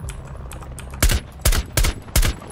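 Bursts of gunfire from the video game Rainbow Six Siege, four sharp loud volleys in quick succession over a low background hum, with no talking.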